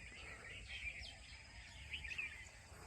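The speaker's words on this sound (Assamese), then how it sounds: "ৰাতিপুৱা চৰাই কি ধুনীয়া মাত" Morning birdsong drifts through a tea garden at Tocklai near Jorhat, Assam: a few thin chirps and short trills rise over a soft, steady background hum, moderately distant and fairly faint.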